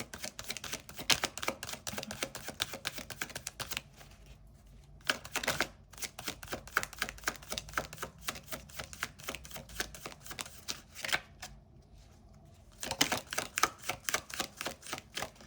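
Glossy, slippery tarot cards being shuffled close up in repeated bursts of rapid crisp riffling and flapping, with short quieter pauses between rounds.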